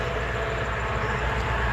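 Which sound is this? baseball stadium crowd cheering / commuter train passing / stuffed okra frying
commuter train passing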